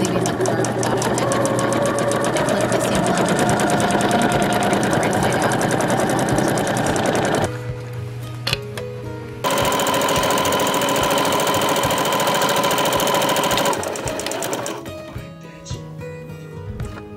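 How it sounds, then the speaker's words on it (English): Sewing machine stitching pinned wool and linen together for a 14th-century style half cloak, running in long steady loud bursts with a brief pause midway and a tapering stop near the end. "pinned the wool and linen together, right sides together, and sewed up one of the straight edges around the neckline"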